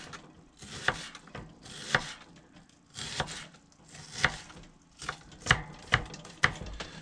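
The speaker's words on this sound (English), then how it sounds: "Probably diced those a little bit too fucking thin for nothing." Knife chopping a whole onion on a board at an outdoor wilderness camp while building a rock oven, about ten sharp, irregular chops close by, with short gaps between them and no talking.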